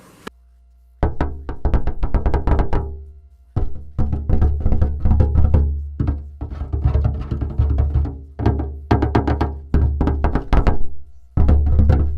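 A metal water tank is knocked on by hand in repeated bursts of hollow, booming thunks, quick clusters of strikes separated by short pauses, close and resonant.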